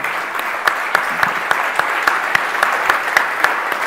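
An audience applauds a government minister at a business colloquium, steady dense clapping with a few louder individual claps standing out at a regular pace, sustained throughout.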